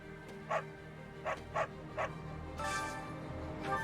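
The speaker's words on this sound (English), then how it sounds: "Stop barking at the dead, dog." Dog barking in the Fire Emblem Three Houses video game: five short, sharp barks spaced unevenly over about two seconds, followed by a brief whimper, over a steady background hum.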